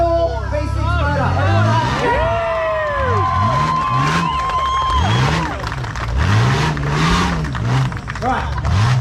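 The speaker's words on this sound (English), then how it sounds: "Commodore V6 motor." A Commodore V6 engine in a Legends Class rock crawler revs repeatedly in rising and falling bursts at an Ultimate Rock Crawling Australia event at Eastern Creek Dragway, loud and close, over crowd chatter, cheering and people talking.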